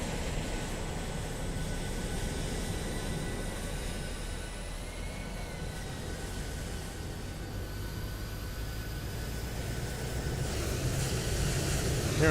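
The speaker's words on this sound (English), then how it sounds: "Hearing a lot of airplanes out here." Jet aircraft noise at an airport in a flight simulator game with a PMDG 777: a steady broad roar with faint whining tones, swelling slightly louder toward the end, no talking.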